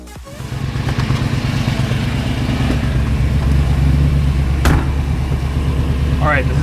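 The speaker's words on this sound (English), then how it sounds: "Exhaust sounds great, it's quiet, it smells good" A classic Ford Mustang's engine and exhaust run steadily close by, a low, even rumble holding through the whole stretch, with a faint high squeak near the end.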